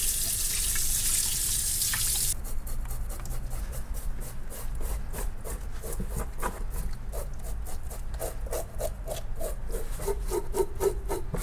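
Running tap water pours steadily over a steelhead trout while hands rub and scrub its skin in a sink, producing close, rhythmic wet rubbing strokes beneath the constant hiss of the faucet.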